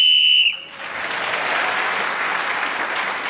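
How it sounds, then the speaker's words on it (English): A sharp whistle is blown to end a speaker's turn on a radio panel game, a steady tone lasting about half a second, followed at once by loud, sustained studio audience applause. "Paul Merton was speaking as the whistle went"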